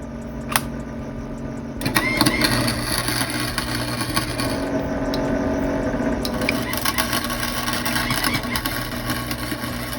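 A cheap $100 Harbor Freight flux core welder lays a bead on a car differential for an SL500. After a single tap, a loud, steady crackling buzz sets in and runs unbroken to the end.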